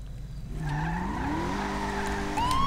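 A car engine in GTA V starts up and revs, its droning tone climbing steadily in pitch. It is loud and close, with a higher whine rising near the end.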